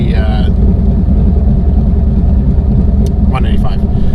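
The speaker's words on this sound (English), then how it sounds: "I'm gonna do a small little power pull here, just both on the side of a road." A turbocharged car stopped at the side of a road gives a steady low engine drone and rumble, heard from close by, while someone talks briefly at the start and again near the end.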